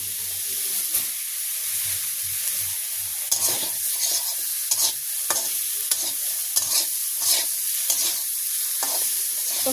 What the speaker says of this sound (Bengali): আমি এখন মাছ দিয়ে দিচ্ছি শাকে।